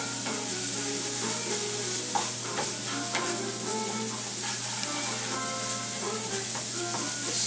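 Fish stuffing sizzles steadily in olive oil in a pan, a continuous close frying crackle with occasional stirring scrapes and no talking.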